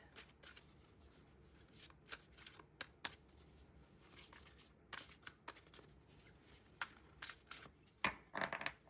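Tarot cards are shuffled close by in quick, irregular bursts of riffling and sliding, separated by short pauses, with a louder flurry near the end.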